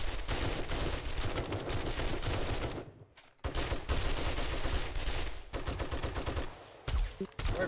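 Rapid, dense gunfire in 7 Days to Die aimed at a bomber zombie: loud, continuous bursts with a short pause near the middle before the shooting resumes at full intensity.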